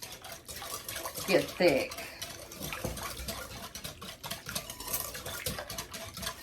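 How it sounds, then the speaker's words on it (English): Instant vanilla pudding is whisked in a bowl: a steady scraping and clinking of the whisk against the sides, louder in a brief burst, then continuing under a person's talk. "we're going to give this pudding a whisk"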